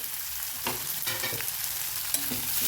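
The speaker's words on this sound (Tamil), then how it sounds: "பாருங்கள் நம்ம நல்லா ஃப்ரை பண்ணிக்கலாம்" Spinach frying in a pan with small onions and chillies, a continuous bright sizzle with a few scraping stirs of a spoon against the pan, close and alone without any voices.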